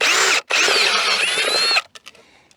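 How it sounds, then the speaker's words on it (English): A step drill bores a hole for a junction box with a loud, high whining grind that cuts out briefly, resumes, then stops, followed by a few faint clicks. "I've never made it this far on the step drill."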